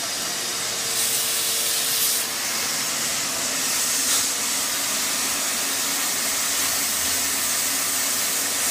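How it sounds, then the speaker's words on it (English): Constant loud hiss of a steam cleaner spraying a floor mat, close and unbroken, with a faint whine and slight surges, no talking. "That's steam only."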